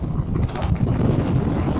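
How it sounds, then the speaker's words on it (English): Strong storm wind buffeting a microphone outdoors in the Hebrides, a steady low roaring rumble with gusty fluctuations and no break. "Apologies about the wind noise."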